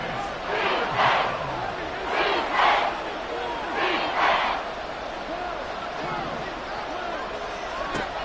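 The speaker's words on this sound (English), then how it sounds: "Work to do here with a crowd at fever pitch." A packed football stadium crowd roars at fever pitch during a Bengals versus Texans NFL game, a dense continuous din that swells in loud rhythmic surges before settling back to a steady roar.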